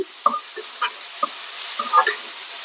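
Tomatoes with salt cooking in a covered pan, giving a low steady simmering hiss with a few soft scattered clicks and stirring knocks, fairly quiet and with no talking.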